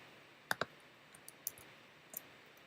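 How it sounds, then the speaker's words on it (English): Computer mouse clicks come in a quick double tap followed by a few fainter single clicks against a quiet background. "I come up here and click on the 3D icon"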